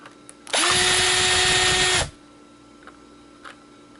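A power drill driving screws into an old electronic board, one loud sustained whir of about a second and a half with a rising start and a quick stop, then quiet with a couple of faint clicks.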